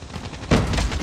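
Gunfire from the HVK-30 assault rifle in Call of Duty swells into a loud, dense burst of rapid automatic shots midway through, over a constant game soundscape.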